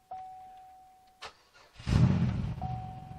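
A 2006 Chevy Equinox bought cheap at auction, silent but for a faint chime, gives a brief cranking click, then catches and fires up into a steady mid-pitched idle close by.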